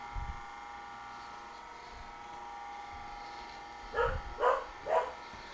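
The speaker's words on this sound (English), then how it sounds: "And my dogs are barking at something, which they always do." Dogs bark in a home kitchen during dessert preparation, three quick woofs bunched near the end over a quiet background hum, fairly distant and moderately loud.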